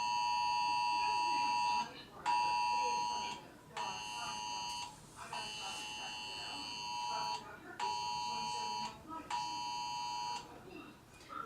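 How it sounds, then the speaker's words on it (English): An Amber Alert emergency broadcast tone sounds as a series of loud, steady two-tone buzzing beeps, about six bursts separated by short gaps, alone with no talk. "This is what an Amber Alert sounds like."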